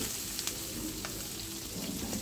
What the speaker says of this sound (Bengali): লালচে কালার আসার আগেই এর ভেতরে আমি চিংড়ি মাছ দিয়ে দিচ্ছি।